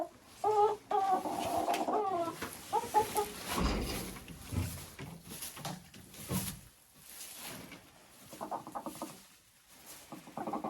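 Broiler chickens cluck and patter nearby in a poultry shed, with irregular bursts of clucking and soft rustling throughout, and no talking.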